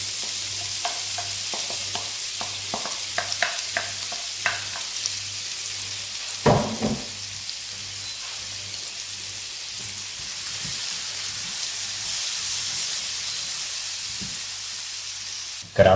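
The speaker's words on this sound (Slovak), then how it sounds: "Krátko orestujeme." Onion and garlic sauté in the golden pan drippings left from browned chicken breasts, a steady close sizzle with brief stirring clatter, a low hum running underneath.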